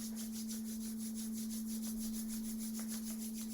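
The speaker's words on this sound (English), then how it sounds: "Rubbing the palms together" Palms rub together in soft, steady, rhythmic swishing strokes during a quiet sound bath session, with a constant low tone humming underneath.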